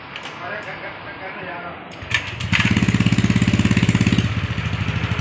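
A Honda Vario 150 scooter with a crankshaft position sensor fault cranks and catches, then runs in a close, steady rapid putter that eases slightly near the end, with a voice talking early on.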